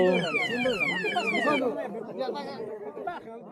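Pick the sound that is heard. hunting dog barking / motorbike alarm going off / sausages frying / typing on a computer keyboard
motorbike alarm going off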